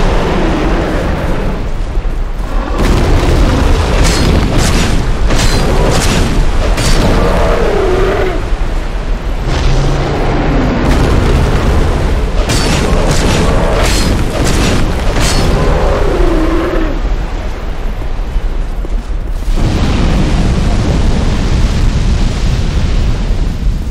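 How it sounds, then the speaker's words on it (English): Deep, roaring booms from a fire beam attack in Dark Souls 2 rumble almost continuously, swelling and fading in repeated blasts, loud and close with no talk. "At least we survived the fire beam this time."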